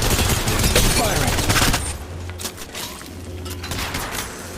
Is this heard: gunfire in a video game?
yes